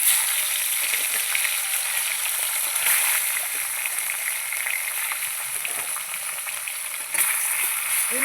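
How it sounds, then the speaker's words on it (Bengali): Tilapia pieces frying in hot oil for a home-style fish curry, giving a steady, loud, dense sizzle that continues without a break from start to finish. "এই মাছগুলো আমি ভেজে নেব।"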